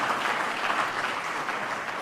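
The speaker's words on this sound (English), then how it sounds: "Let's give him a big round of applause for his presentation." An audience applauds a government minister after a presentation at a national briefing, a dense and continuous round of clapping that carries on evenly from start to finish.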